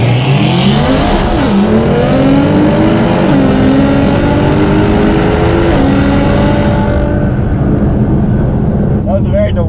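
Two cars launch hard side by side, an R35 Nissan GT-R against a 1000 HP Jeep Trackhawk, their engines loud and near and rising steadily in pitch through the gears with a rough roar. The roar fades away toward the end.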